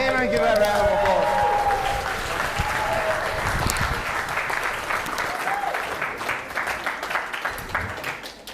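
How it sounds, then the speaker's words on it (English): An audience at a live stand-up comedy show breaks into applause, a full burst of clapping that starts loud with a few whoops and gradually thins and fades, with voices mixed in early on. "Everyone give a round of applause."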